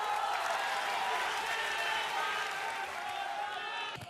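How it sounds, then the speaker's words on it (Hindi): A studio audience applauds to welcome guests onto a live Bihar election debate panel, a steady broadband wash of clapping that holds for about four seconds and tapers at the end, with faint voices mixed in. "तालियों के साथ स्वागत कीजिए"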